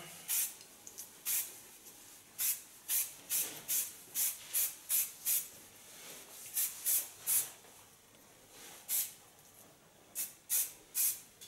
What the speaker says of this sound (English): Take a little hairspray of Lanza.